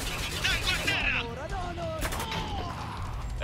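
Rapid bursts of gunfire from Spec Ops: The Line, set in Dubai, crackle as a dense fusillade while voices talk over the shooting.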